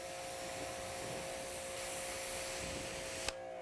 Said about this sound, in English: Let's spray down our first wash.